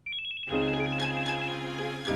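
A telephone ringtone sounds close and clear, a short high tone and then a sustained electronic ring with pulsing accents, alone and without speech.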